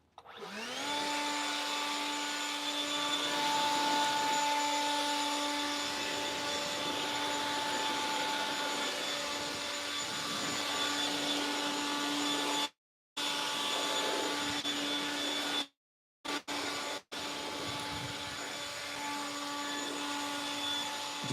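A small battery-powered Greenworks leaf blower runs continuously close by as it blows leaves, giving a steady high-pitched electric whine with a rushing air hiss. The sound drops out briefly a few times as the motor is released.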